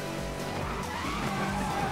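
Car drifting in Need for Speed Most Wanted, a Camaro, with sustained tire squeal over a steady engine roar that continues loud and unbroken for the whole stretch.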